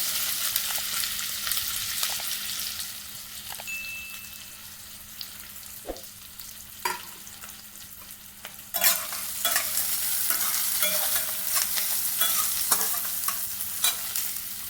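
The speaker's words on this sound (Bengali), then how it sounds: "এবার এই তেলের মধ্যে পেঁয়াজটা দিয়ে দেবো তেলটা আমার গরম হয়ে গেছে" Onion frying in hot oil in a pan for mushroom masala: a steady close sizzle with intermittent stirring scrapes and clinks, growing louder and busier partway through, no voices.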